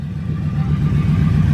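A 1971 Buick Skylark with a small-block 350 V8 runs steadily at a car show, a loud, close, low rumbling idle with a slight pulsing throb and no talk over it.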